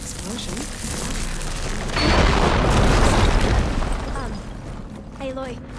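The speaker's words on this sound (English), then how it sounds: "Explosion." A wall blown up in the Horizon Forbidden West video game gives a deep rumbling explosion that swells, holds for about two seconds and fades, with a speaking voice around it.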